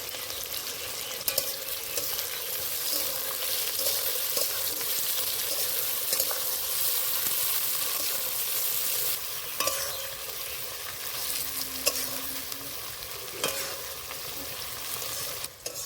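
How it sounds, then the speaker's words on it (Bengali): Chopped onion and tomato fry together in a pan, a continuous close sizzle with occasional clinks and scrapes of stirring through the whole stretch. "পেঁয়াজ আর টমেটোটা একসাথে ভেজে নেব"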